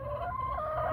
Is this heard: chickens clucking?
yes